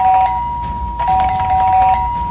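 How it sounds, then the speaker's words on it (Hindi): A doorbell chimes with a bright, sustained electronic tone, ringing again about a second later, close and clear over faint background hum. "डोरबेल बजे जा रही थी"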